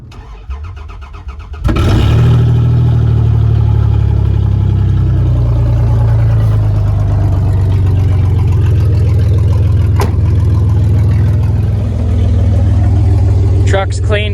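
A truck engine cranks and catches after a quiet moment, then settles into a loud, steady rumbling idle close by as it warms up, with a brief metallic clank near the end.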